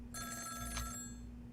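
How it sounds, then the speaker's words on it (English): Telephone ringing in the video game Ghost Trick: Phantom Detective, a single electronic bell-like ring burst lasting about a second over a steady low background hum, with no talk. "Is that the phone call?"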